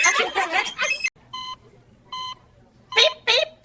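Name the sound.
parrot imitating electronic beeping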